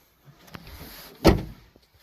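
The door of a restored 2005 Daewoo Lanos 1.5 running on gas and petrol, with a lock that is hard to adjust, shuts with a single solid thump after a few faint handling clicks, close by and alone.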